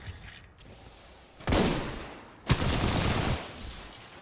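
Gunfire in the video game Titanfall 2 arrives as two loud, sustained bursts of rapid fire, the second starting with a sharp crack, after a quieter stretch of faint mechanical clicks.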